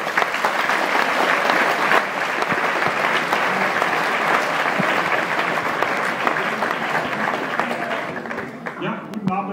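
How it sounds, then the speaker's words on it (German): Loud, sustained applause from a science slam audience in Ulm, welcoming a cryptologist to the stage; dense clapping continues without break and tapers slightly at the end as a voice begins. "herzlichen Applaus für Klaus Schmee"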